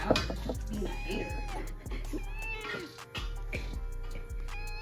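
A cat meows repeatedly with drawn-out, wavering cries, close by, as voices talk over and between the calls.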